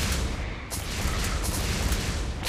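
Mini rocket swarmers fire in the video game Crimsonland, a dense, steady barrage of rapid pops and booms with no pause.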